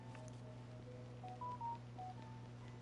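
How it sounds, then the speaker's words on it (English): A phone plays a notification tone, a quiet string of short electronic beeps at shifting pitches over a steady low indoor hum. "That's probably my phone just telling me it's going to be clear skies tomorrow."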